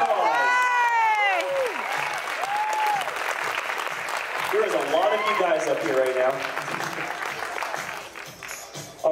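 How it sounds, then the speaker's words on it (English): Applause and cheering from a crowd at a men's physique bodybuilding show fill the hall, loud and continuous, with an announcer talking over it and whoops rising and falling throughout. "Give these guys one more round of applause."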